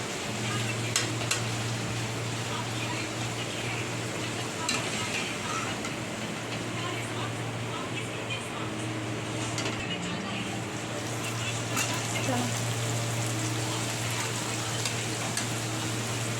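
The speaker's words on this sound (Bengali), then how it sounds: "এইভাবে আমি সবগুলো ভেজে নিচ্ছি।" Nan puri deep-frying in hot oil, a continuous dense sizzle with occasional sharper crackles and a steady low hum underneath, heard close throughout with no talk.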